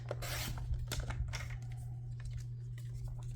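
Cardstock being cut to size for a handmade card: a few quick, crisp slicing and scraping strokes close by, followed by quieter rustles and light taps, with no voices.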